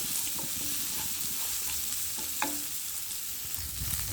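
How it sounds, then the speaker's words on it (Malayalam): Onions sautéing with a pinch of salt in a pan, a steady close sizzle with a few light clicks and scrapes of a spoon being stirred through them. "ഇതൊന്ന് വഴറ്റി വരട്ടെ കേട്ടോ"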